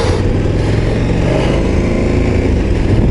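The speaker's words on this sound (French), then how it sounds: "Le shifter passe de la 1 à la 2." A KTM 1290 Super Adventure S motorcycle engine running loud and close, a continuous low rumble under riding wind noise as it shifts from first to second with the quickshifter.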